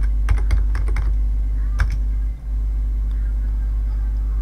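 A computer keyboard typing a keyword, a quick run of close, light key clicks over a low steady hum, then quiet.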